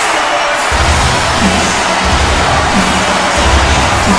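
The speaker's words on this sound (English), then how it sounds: "You can hear the audience. Already up to a standing room only crowd." A packed, standing-room-only wrestling crowd roars and cheers loudly and steadily, with thumping entrance music beats pulsing underneath the dense crowd noise.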